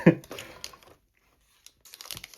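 A quick crinkle and rip of paper packaging up close, then a brief pause and more soft rustling.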